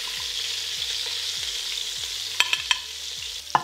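Beef short ribs sear in a pan with a steady close sizzle, broken near the end by a few light clicks and taps of utensils; no one speaks.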